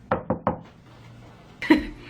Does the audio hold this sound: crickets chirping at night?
no